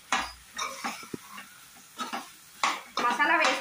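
A spoon stirring garam masala through chicken curry in a pan, with scraping strokes and soft sizzling that come in separate bursts among quiet gaps.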